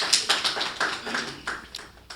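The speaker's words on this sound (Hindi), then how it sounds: "एक बार तालियां उनके लिए बजाएं" Audience at a Hindi kavi sammelan poetry gathering claps in a short burst, with scattered, uneven hand claps that taper off over a couple of seconds.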